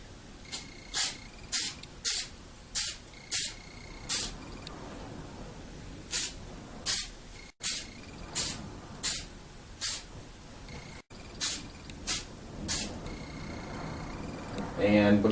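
Short bursts of aerosol clear coat sprayed onto the nose, eyes and ears of a whitetail deer taxidermy mount, repeated hisses in an irregular rhythm with pauses between, close and fairly loud.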